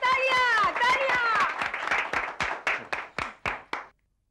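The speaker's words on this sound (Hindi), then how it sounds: "तालियां तालियां, दोनों पर तालियां तालियां।" Audience applause at a TV show, a burst of clapping that starts dense and mixed with voices, then thins into slower, separate claps that fade out within a few seconds.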